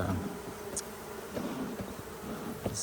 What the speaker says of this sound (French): je vous montrais une abeille qui appelle